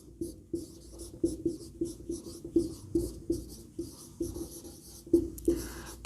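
Pen scratching across paper while working a Class 12 vector maths problem, a steady series of short strokes with a regular rhythm, close and fairly quiet, with no talking.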